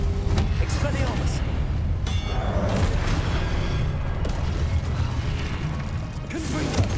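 Spell combat in the video game Hogwarts Legacy, with the Expelliarmus spell cast amid a steady mix of whooshing magical effects, impacts and mechanical clanks. A player voice is heard.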